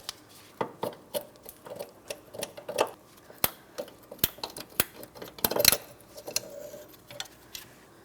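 An angled metal pick prying a metal clip off a front brake hose on a 2004-2008 Pontiac Grand Prix, heard as a series of sharp, close metallic ticks and clicks, irregular and crisp, with no talking.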